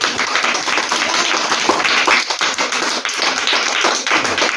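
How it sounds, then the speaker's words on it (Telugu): Children at a Sunday school class clap hard together in a dense, continuous burst of applause, loud and close, lasting several seconds without talk. "అందరూ ఒకసారి గట్టిగా క్లాప్స్ కొట్టండి"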